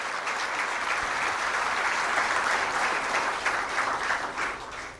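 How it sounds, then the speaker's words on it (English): Steady, dense applause from a large crowd, loud and continuous throughout with no pauses. "we should give a big round of applause to the entire board for this"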